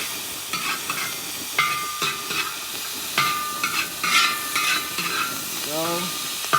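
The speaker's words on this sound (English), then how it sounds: "So we're stirring this just to get that oil touching everything." Shrimp being stirred through hot oil in a pan for fried rice: loud frying sizzle broken by repeated scraping strokes of a spatula against the pan, close up, with no talking.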